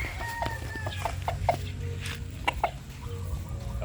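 A Roundhead Grey gamefowl rooster gives a run of short clucks at close range over a low steady background hum, with other faint bird calls and no speech.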